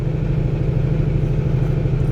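Car engine labouring at a steady mid-range drone while climbing steep Parleys Canyon on the I-80 freeway east of Salt Lake City, Utah, around 40 mph, continuous and close with no talk.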